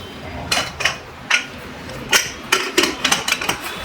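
Metal clanks as a lid is set onto a cooking pot, several sharp clinks and knocks in quick succession, close and fairly loud.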